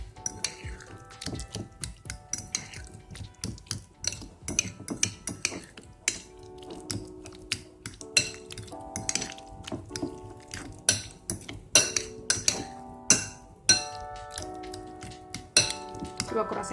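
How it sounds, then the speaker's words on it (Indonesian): Spoon and bowl clinks and light clatter while lemon juice is stirred into guacamole, a steady run of small close knocks and taps with tonal ringing, under intermittent talk. "Ini lemonnya kita aduk-aduk."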